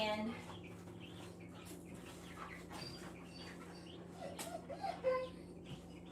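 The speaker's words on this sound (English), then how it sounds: "we have the 3 baby chicks." Three baby chicks peep faintly in scattered high notes, with soft speech and background noise mixed in.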